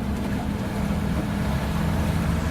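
Twin outboard motors on a 2007 Prokat 2860 WA boat drone in a low, steady hum, running continuously at moderately raised RPM.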